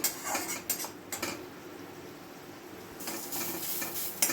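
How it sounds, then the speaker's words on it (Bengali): A raw spice paste with ginger fries in a pan while a utensil scrapes and stirs, with short bursts of clatter over a soft, steady sizzle. "কাঁচা মশলাটা ভালো করে একটু কষিয়ে নেব আমি"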